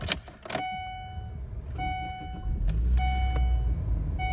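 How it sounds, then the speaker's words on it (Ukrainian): A Chevrolet Lacetti in ideal condition is started: a few clicks and key sounds and a steady electronic chime, then the engine cranks and settles into a low idle rumble, close by with no talk. "Заведемо нашу машинку."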